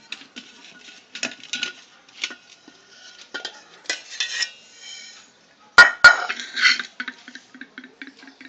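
A mango sponge cake pan is tapped and turned over onto a plate, giving scattered light metallic taps and clinks with a sharper clatter partway through, all close and isolated.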